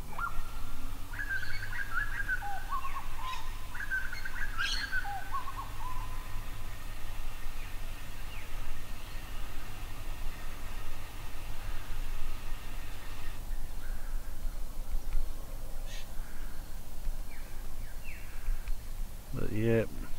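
Songbirds sounding alarm calls at an owl out in daytime on a wooded food property, with sharp chirps and scolding notes scattered through a steady outdoor hiss and a person talking quietly.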